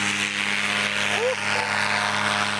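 A paramotor engine runs during a test flight. It makes a steady, droning buzz with a slight wavering in pitch, and faint voices sit in the background.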